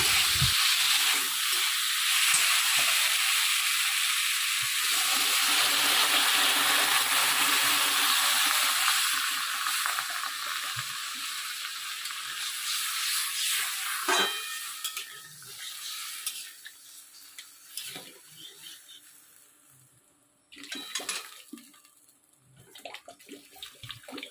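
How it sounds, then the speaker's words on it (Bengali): Katla fish curry broth with potatoes and spices, made without onion or garlic, boils in a pan with a steady, close bubbling hiss that fades and thins in the second half, broken by a few clinks, with no voices. "দেখো আমার ঝোলটা খুব সুন্দর ফুটে গেছে"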